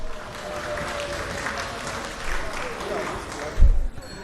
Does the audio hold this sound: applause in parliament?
yes